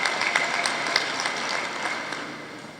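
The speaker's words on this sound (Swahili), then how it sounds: "Tupige makofi mengi sana kwa ajili ya ushirika." An audience at a Tanzanian cooperative societies gathering claps together, producing a sustained patter of many hands that holds steady and then slowly fades.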